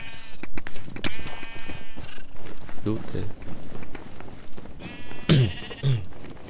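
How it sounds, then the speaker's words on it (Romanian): Minecraft sheep let out several wavering bleats, a couple loud and close, under excited shouting and fast talk from players herding them. "Trafic de oi aici."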